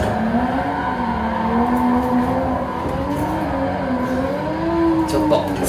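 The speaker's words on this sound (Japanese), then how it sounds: "そーっとドリフトしていってます" A car drifting on Meihan Sportsland in a racing simulator, with a loud steady engine drone rising and falling and tire squeal under it, continuous and close.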